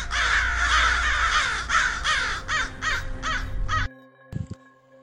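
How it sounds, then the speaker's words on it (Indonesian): Crows caw loudly outside a house at night, a noisy flock giving a rapid series of harsh calls that stops abruptly, followed by a brief faint knock. "Tak kalah terdengar suara riuh burung gagak di luar rumah."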